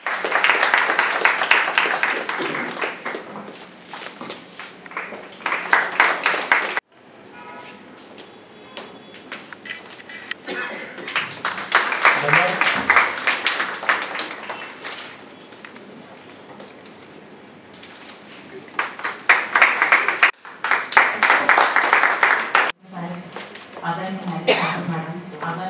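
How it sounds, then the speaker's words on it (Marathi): An audience at a bar association felicitation gives sustained clapping in several long bursts separated by short pauses, with a voice speaking over a microphone in the quieter stretches between them. "सर्वांनी टाळ्या"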